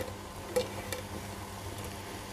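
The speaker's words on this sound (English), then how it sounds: "So I'm going to shallow fry this grated carrot." Grated carrot shallow frying in ghee hisses softly and steadily, with a few faint scrapes of stirring near the start and no talking.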